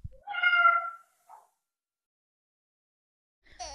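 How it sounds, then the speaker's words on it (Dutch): A cat meows once, a clear drawn-out mew up close, followed by a brief faint chirp, then silence before another sound begins at the end. "7 is een kat, die zit in de zon."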